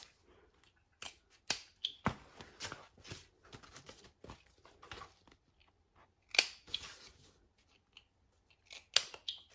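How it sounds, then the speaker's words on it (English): Scissors snip fabric at the seam allowance corners of a sewn garment, a series of short, crisp cuts in irregular bursts, close and fairly quiet, with no talking. "I'm going to snip our seam allowance corners."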